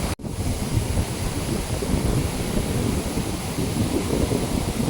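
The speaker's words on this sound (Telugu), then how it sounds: "భలే ఉంది కదా గాలి." Strong wind blowing outdoors at a resort in the evening, a steady, loud rushing roar buffeting the microphone after a brief cut at the start, with no voices.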